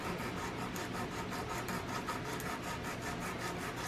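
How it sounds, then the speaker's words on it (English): An acrylic stiletto nail tip being filed by hand, with quick, even back-and-forth rasping strokes repeating in a steady rhythm, close and soft, with no talking. "we're just going to file that down"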